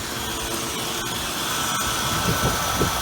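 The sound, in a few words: car engine running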